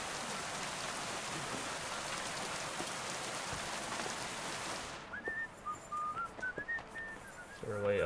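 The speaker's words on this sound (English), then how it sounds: "It's raining." Rain in the medieval video game Kingdom Come Deliverance, a steady hiss of falling rain that drops away partway through, giving way to faint whistling tones and quieter sounds.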